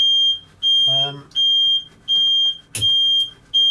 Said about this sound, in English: The alarm you can hear is the oil pressure alarm.